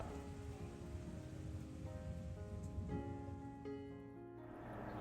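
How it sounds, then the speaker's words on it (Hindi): Steady rain patters outside in a continuous wash, with a faint tonal hum running underneath and no voices. "बाहर देखिए कितनी प्यारी बारिश हो रही है"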